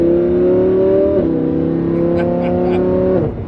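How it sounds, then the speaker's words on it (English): A Lamborghini Huracan engine drones loud and close, with two quick stepped pitch drops as it double downshifts and then settles back to a steady hum. "Little double downshift."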